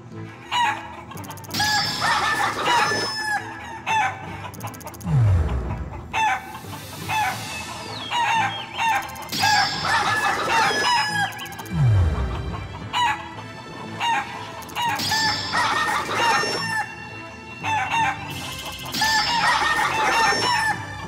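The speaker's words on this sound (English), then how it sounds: "Try catching 10 of those chickens." Chickens cluck in Shenmue III, a video game, with repeated loud bursts and crowing-like calls across the whole stretch, plus occasional low swooping game effects and no talk.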